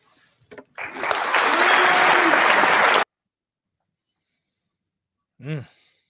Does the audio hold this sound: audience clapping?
yes